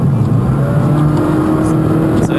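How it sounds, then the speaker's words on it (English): A car engine revs during a remote hacking demonstration, a loud, close, rough rumble that stays fairly even for a couple of seconds, with faint voices in the background. "try to listen to the engine, I guess."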